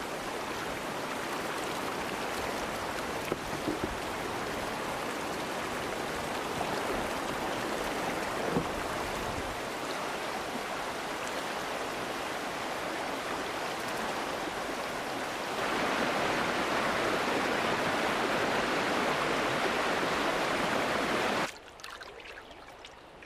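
River rapids rushing past a canoe, a loud continuous broadband roar of churning water that swells louder toward the end before cutting off abruptly.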